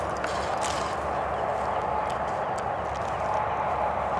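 Shetland pony hooves clip-clopping on a Florida ranch during a music festival, a steady patter of hoof strikes under constant outdoor noise.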